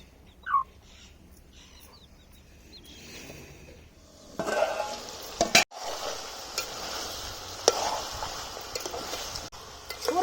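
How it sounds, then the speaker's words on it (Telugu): Raw country chicken curry fries in a pan in village-style cooking, quiet at first, then a steady close sizzle with scraping stirs and sharp clatters, and a faint bird chirp early on. "లేకుండా పచ్చి కూరను ఇట్లా ఒక ఐదు నిమిషాలు ఫ్రై చేసుకోవాలి"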